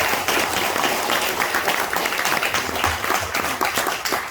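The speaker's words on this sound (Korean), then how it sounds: "다시 한번 감사의 박수를 드리겠습니다" Audience applause at an academic conference after a presentation, dense and sustained clapping from a hall full of people, fairly loud and continuous with no talk over it.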